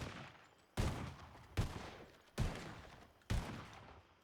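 Four evenly spaced video-game gunshots ring out during strafing in a Wild West roleplay game, each a sharp loud crack followed by a decaying tail.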